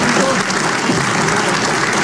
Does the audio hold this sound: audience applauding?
yes